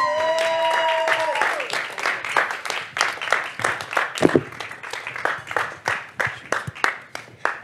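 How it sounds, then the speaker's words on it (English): Applause from a small, intimate crowd at a New York Latino Film Festival event, steady clapping with scattered sharp individual claps running throughout, loud and close. "You can continue clapping."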